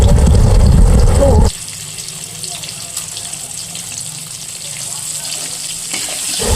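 Chopped tomatoes frying in a pan for a Bengali fish curry, a steady soft sizzle that follows a louder burst of running tap water and clatter in the opening moments.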